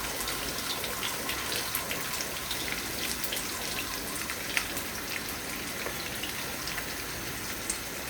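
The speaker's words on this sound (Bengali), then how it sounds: "সবগুলো একসাথে ভেজে নিব" Garlic and onion fry in a pan with green chilies, giving a steady sizzling crackle with scattered pops, heard close and alone with no talking.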